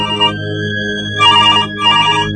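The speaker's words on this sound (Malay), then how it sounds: "tiba-tiba kedengaran telefon rumah berbunyi." A home telephone rings late at night with a loud electronic tone in bursts, a steady ring followed by two warbling pulses, close by and with no talking.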